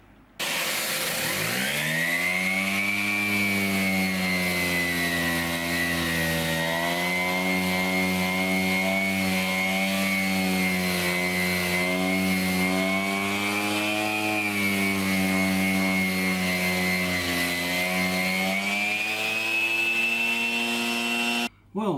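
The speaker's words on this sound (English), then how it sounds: "I'm just gonna sand it lightly to get the clear coat off" Power sander taking the clear coat off a surf green guitar body, a loud, steady motor whine that spins up at the start and runs continuously for about twenty seconds with slight pitch wavering, alone without talk.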